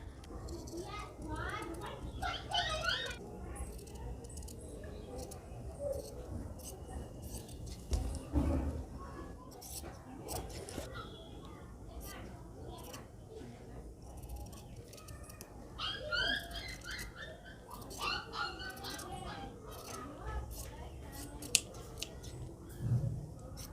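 Scissors snipping through blouse fabric in short bursts of crisp cuts, close up, with background voices, children and birds faintly audible.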